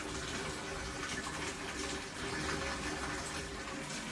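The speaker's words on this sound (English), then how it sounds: "Lots of flow, crazy flow in that pump, holy mama." A pump rated at 12,000 liters an hour drives a strong current through a 270-gallon saltwater aquarium, producing a continuous gushing, churning rush of water that is fairly faint and steady.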